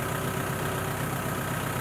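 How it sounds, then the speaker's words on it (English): A tractor engine idling on a farm, giving a steady, close mechanical rumble with an even, continuous drone and no talking over it. "as you can tell, the tractor's running"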